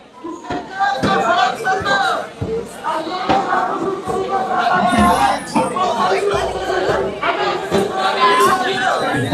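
Protest crowd gathered at night at Jantar Mantar in Delhi, a dense, steady hubbub of many voices with shouts and occasional sharp knocks, loud and close throughout.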